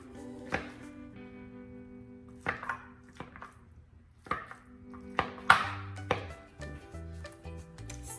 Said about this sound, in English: We're gonna take the acorn squash and we're gonna mash it like mashed potatoes as much as we can